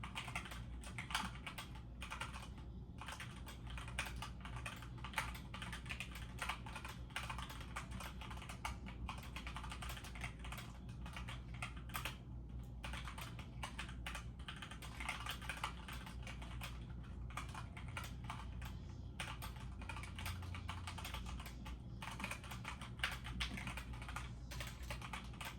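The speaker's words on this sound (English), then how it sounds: "let's see if I do good on this typing run." Steady, continuous typing on a computer keyboard during a typing run, close and fairly constant in level, with dense rapid key clicks throughout and no talking.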